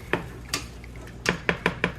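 A slotted spoon scoops boiled blueberries from a pot, giving six sharp metallic clinks close by: two spaced apart, then four in quick succession.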